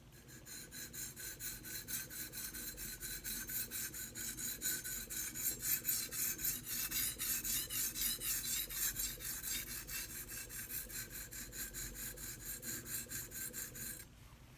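A knife blade is drawn back and forth across a coarse sharpening stone in steady, rhythmic rasping strokes, close and clear for about fourteen seconds, with no voices.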